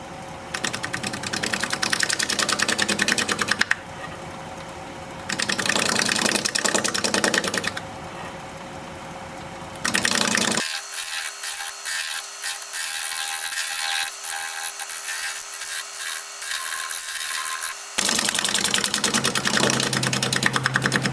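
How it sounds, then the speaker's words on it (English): Aromatic cedar being shear scraped on a wood lathe: a steady, loud whirring scrape that keeps on with short breaks and changes in tone as the tool moves along the spinning workpiece, with no talking. "So I'm just going to do some shear scraping."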